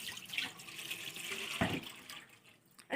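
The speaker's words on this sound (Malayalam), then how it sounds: "അതിലേക്ക് നമ്മൾ നേരത്തെ എടുത്ത് വെച്ച് പാൽ ഒഴിക്കാം" Milk poured into a pan set on a lit gas stove, a steady close liquid pour with splashy texture running for a few seconds, a brief louder splash midway.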